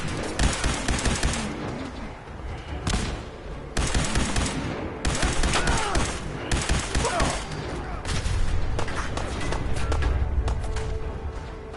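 Sustained gunfire in the video game Fallout 4 at Earl Sterling's house, dense overlapping bursts of shots and explosions filling the whole stretch, loud and close with little pause.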